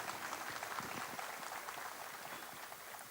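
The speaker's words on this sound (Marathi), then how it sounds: "ह्या सगळ्यांचं जोरात टाळ्या वाजवून त्यांचं विशेष अभिनंदन करतो" Applause for guest singers at a Lenten evening of sacred music at Holy Ghost Church, Nandakhal: a steady, even wash of crowd clapping, fairly faint and continuous throughout.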